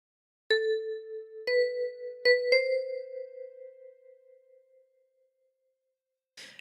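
A ten-key kalimba plays a short phrase of All Through the Night: four thumb-plucked metallic notes, the last three closer together, each ringing with a bright sustained tone and a long fading tail, close and alone, then a brief rustle at the end.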